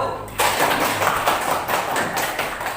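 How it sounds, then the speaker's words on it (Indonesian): A classroom group applauds a student group, a sudden burst of many hands clapping that starts abruptly and continues as a dense, pattering roar. "Kita beri aplaus kelompok 1."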